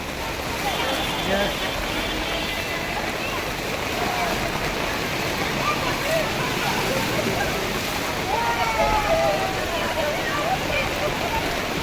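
A loud, steady downpour roars without a break in Surat, with faint voices and a few brief tonal sounds mixed into the wash of noise.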